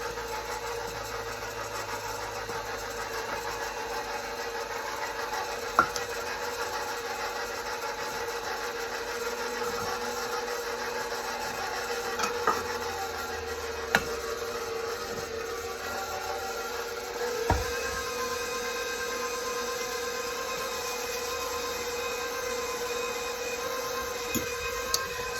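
An electric stand mixer kneads sourdough bread dough with a steady, droning motor hum and faint periodic knocks, running continuously at an even level.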